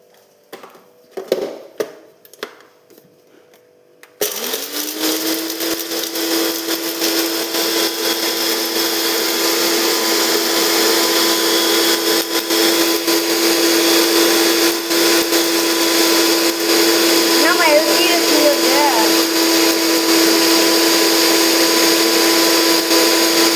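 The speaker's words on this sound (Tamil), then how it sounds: "இப்போ நம்ம நல்லா அரைச்சிட்டு வந்துடலாம்." A kitchen mixer grinder grinding ingredients starts after a few clicks and bumps of handling, then runs as a loud, steady, high whirring whine that holds for about twenty seconds.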